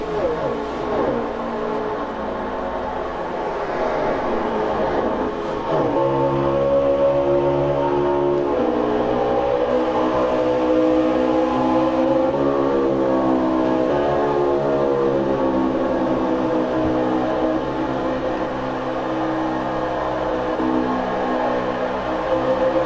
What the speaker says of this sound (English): let's hear these cars rumble a little around the track